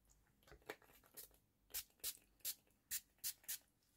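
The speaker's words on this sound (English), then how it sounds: "bit of setting spray, all done" NYX Dewy Finish setting spray is pumped in a series of short, faint misting hisses, about a dozen quick spritzes with a steady rhythm toward the end.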